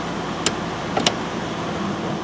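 Steady idle of a 1997 Mercury Grand Marquis V8 sitting in park after a shift tube repair, a low continuous rumble with a few sharp clicks from the shifter or cabin, no talking.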